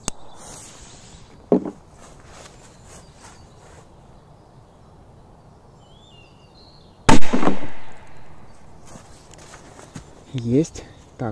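A Corsair 3 firecracker goes off outdoors with one sharp, loud bang and a short decaying rumble, set between quieter pops and faint background insects, with voices briefly heard afterward.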